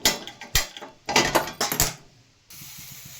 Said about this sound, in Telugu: స్టవ్ వెలిగించి బాండిల్ పెట్టేశాను.